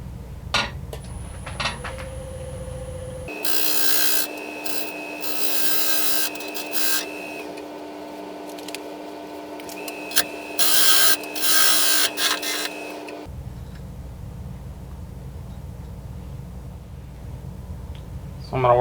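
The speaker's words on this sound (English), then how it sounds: "So I'm going to work on hollowing out the inside just a little bit, even everything out using this carbide tool" A carbide hollowing tool cuts into the inside of an acorn-shaped wooden lidded box spinning on a lathe, giving a harsh, steady scraping rasp for about ten seconds between quieter stretches of the lathe's hum.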